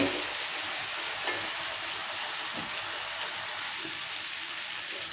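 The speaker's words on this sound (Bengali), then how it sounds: "চিংড়ি মাছগুলো দিয়ে ভালো করে কষিয়ে নেব" Prawns sautéing with spices in oil for a raw jackfruit curry, giving a steady bright sizzle with occasional stirring clinks and scrapes up close and no voices.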